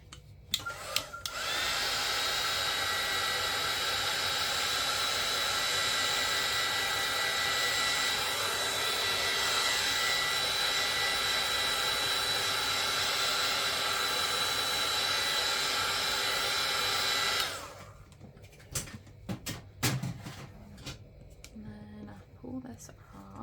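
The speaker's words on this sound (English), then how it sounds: "I'm gonna grab my heat gun and dry that really quick before it seeps under my tape" A heat gun blasts continuously for about sixteen seconds, drying paint on a pirate hat mini art piece, a loud steady hissing roar that stops abruptly, followed by small handling noises.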